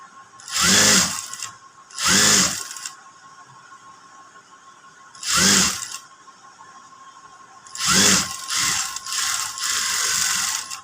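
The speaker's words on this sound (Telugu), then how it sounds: "మీరు ఈ పార్ట్ని పెట్టి కుట్టండి" A sewing machine stitches a frock in short, loud rattling runs separated by pauses, with a steady hum behind, and the last run is longer and continuous.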